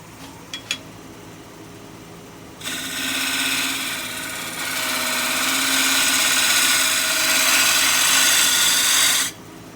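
A small cutter power tool whines against an oak bowl being carved, starting after a couple of faint taps, then a steady high buzz that grows louder midway and stops abruptly near the end.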